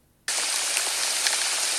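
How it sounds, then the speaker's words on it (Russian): Rain starts suddenly after a brief quiet moment and then pours steadily, a loud, dense hiss of drops close by that holds evenly to the end. "Дождь идет"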